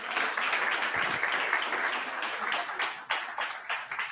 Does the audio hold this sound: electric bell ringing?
no